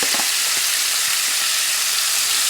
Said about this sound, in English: So I'm just going to pour my tofu pieces in this hot oil, and we are going to fry them.